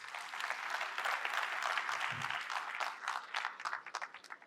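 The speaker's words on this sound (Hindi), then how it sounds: "ताली बजाओ।" A seated audience at a coaching academy talk applauds in a sustained round that thins out toward the end into scattered individual claps, recorded at moderate distance.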